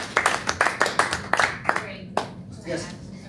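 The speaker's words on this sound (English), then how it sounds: "Another round of applause." A few people clap at a school board meeting, a short run of close, fairly regular hand claps that thins out and fades, with a voice speaking at the end.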